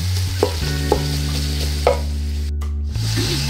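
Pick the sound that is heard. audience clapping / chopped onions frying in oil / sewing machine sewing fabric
chopped onions frying in oil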